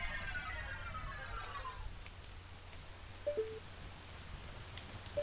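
Rain falls steadily in Ocarina of Time near the lake laboratory, a soft continuous hiss with a few brief chimes and a short descending tone at the start, no talking.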